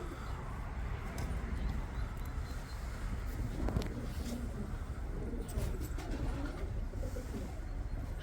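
Domestic pigeons coo softly in a coop, with low murmuring calls under faint background noise and occasional scuffling.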